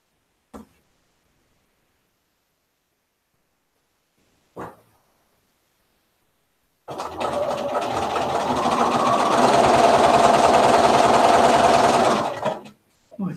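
A sewing machine stitching quilt blocks in a chain-piecing run, a steady loud whir lasting several seconds after brief quiet ticks, then stopping abruptly.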